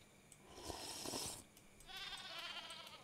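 Goats bleat in the survival game Card Survival: Tropical Island, two drawn-out wavering bleats in succession, fairly faint and alone without talk.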